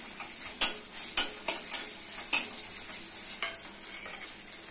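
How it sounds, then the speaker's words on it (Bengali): Onion frying in oil in a wok, with a steady sizzle under repeated sharp scrapes and clinks of stirring close by, alone without speech. "কড়া বসিয়ে দিচ্ছি তেল, দিচ্ছি পেঁয়াজটা"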